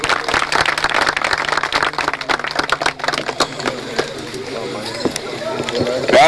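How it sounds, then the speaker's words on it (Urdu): An audience at a staged Pothwari sher poetry contest breaks into dense, rapid clapping that carries on for several seconds, with an announcer speaking over it. "تالیوں کی گونج میں"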